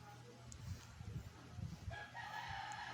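Roosters crow at a distance, faint and thin against a low background hum, with drawn-out calls overlapping near the end.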